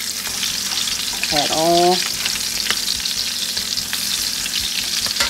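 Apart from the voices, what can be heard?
canned meat frying in a large pan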